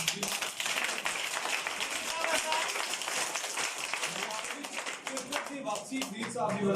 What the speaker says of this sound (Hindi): साहब वास्ते तालियां होनी चाहिए।